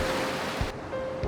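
Surf rolling onto Songjeong beach in Busan, a steady wash of breaking waves with no voices.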